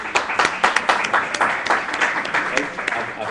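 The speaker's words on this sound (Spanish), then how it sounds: "de los que habéis aplaudido, que sois muchos" An audience claps at a university technical conference, giving a steady round of applause with distinct individual claps audible, heard fairly close throughout.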